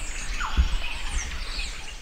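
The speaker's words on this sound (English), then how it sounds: "The councillors were directed down the trail surrounded by impressive birdsong." Birds calling along a forest trail in New Zealand conservation land, a few faint chirps and squeaks rising over a steady low rumble of wind or ambient noise.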